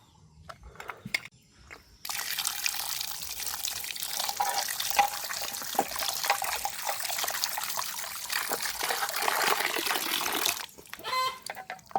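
Water runs and trickles steadily as cut fish pieces are washed in a village kitchen, a continuous splashing stream that starts abruptly and stops near the end, with a rooster crowing faintly in the background.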